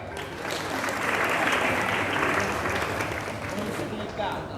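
An audience at an Indonesian religious talk breaks into loud applause, a dense wash of clapping that swells quickly, holds for several seconds and then tapers off.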